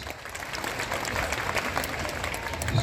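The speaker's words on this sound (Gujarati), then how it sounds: "જોરદાર તાળીઓથી આપણે વધારશું" Steady, dense applause from a large crowd at a Talpada Koli Patel community mass wedding ceremony, sustained and fairly loud for its whole length with no pauses.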